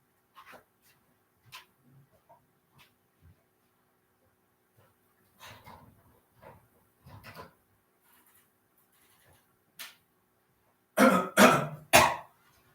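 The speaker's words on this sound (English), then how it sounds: "Sorry, I'm still coughing a bit" A man coughs several times with long quiet gaps, the bursts growing louder and harsher toward the end, close to the microphone.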